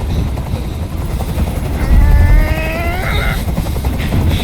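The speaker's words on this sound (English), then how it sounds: "Tell that helicopter to get out of here." A police helicopter hovers overhead in the video game Detroit: Become Human, a loud, continuous rotor thrum that swells in the middle, with a strained voice and whining tones briefly rising over it.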